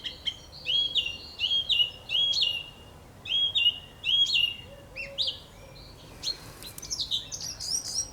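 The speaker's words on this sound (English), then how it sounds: "Birds." Spring birdsong rings out in clear, repeated bursts of high chirping phrases with short pauses between them, fairly close over a quiet background, with no talk.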